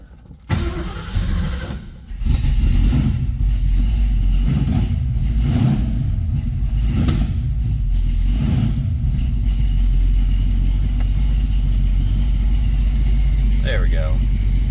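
A 1967 Ford Mustang engine sputters to life and then runs steadily, its loud, rough mid-range rumble holding for most of the span with a few swells as it is given gas, and brief voices mixed in near the end.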